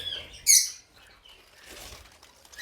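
Small birds in an aviary give a loud, high chirping burst near the start, followed by faint scattered tweets and light rustling.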